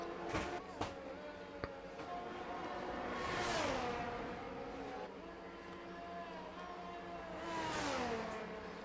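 Haas F1 cars on track in the F1 2022 racing game, engine whine with two gradual passes swelling and fading, plus a few sharp clicks early on, no talking.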